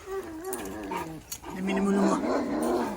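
A large Anatolian Shepherd dog growls low and rumbling, in two drawn-out stretches, close and fairly loud.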